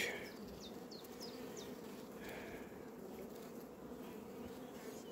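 Honeybees buzzing around an open nucleus hive fitted with a small super, a soft steady drone of many wings close by, with a few brief higher passes of single bees and no talking.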